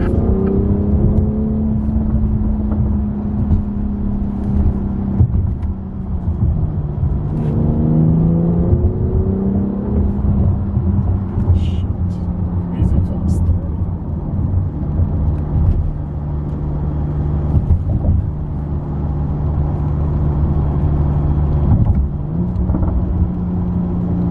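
A 2021 BMW X4 M40i with four-wheel drive pulls hard on a night drive, its engine droning and rising in pitch through repeated gear pulls under steady road rumble, heard from inside the cabin with no talk.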